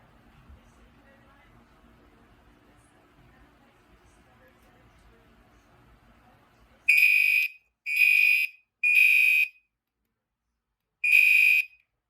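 Notifier NFS2-640 fire alarm system sounding during a smoke detector test: after a quiet stretch, four loud, sharp electronic horn blasts ring out close by, three in quick succession, then a gap before the fourth.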